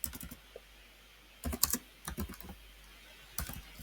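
Computer keyboard typing in short bursts of quick, close keystrokes separated by brief pauses, clear against a quiet background with no talking.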